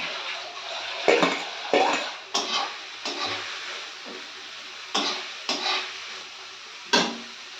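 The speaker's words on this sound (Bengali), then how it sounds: "আর এই দেখুন চিংড়ি মাছগুলো দিয়ে দিই এর মধ্যে।" Small shrimp go into a hot pan of fried onion stalks with black cumin and green chilli, sizzling steadily while a spatula scrapes and stirs in several distinct strokes, close up and with no voices.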